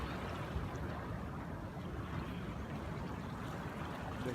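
Continuous soft wash of waves at Sindhu Beach in Sanur, Bali, a steady low surf rush with wind, faint and even throughout, with no talking.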